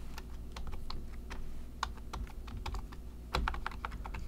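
Computer keyboard keys are pressed in quick, irregular clicks and taps, close and moderately quiet over a low steady hum.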